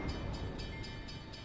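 Train running on rails, a steady low rumble with rhythmic clacking of wheels over track joints repeating about every quarter second, close and even, no voices.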